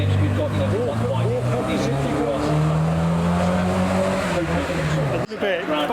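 A supercharged 1.6-litre R53 rally car at a speed hill climb, its engine loud and close, pitch rising and falling through gear changes, cutting off sharply near the end before resuming.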